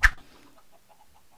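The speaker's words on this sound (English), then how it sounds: "We've got ourselves a chicken farm." A single short chicken cluck sounds in a farm area of a survival video game, a brief sharp call followed by faint quiet chatter and near silence.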